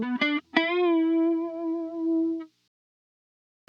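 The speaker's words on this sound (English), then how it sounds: "Next in line, we have a chorus with depth all the way up and speed set to 1 o'clock." An electric guitar plays a part through a chorus pedal with depth at maximum and speed at about one o'clock. A few quick plucked notes lead into one shimmering sustained note that rings for about two seconds, then silence.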